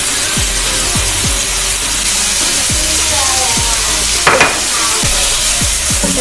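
Shrimp and peppers fry in a pan with a steady, loud sizzle, while a utensil stirs them and knocks against the pan in repeated short scrapes and taps.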